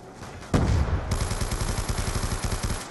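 Rapid automatic gunfire in a zombie video game, a loud burst starting abruptly and continuing as a fast, even stream of shots to the end.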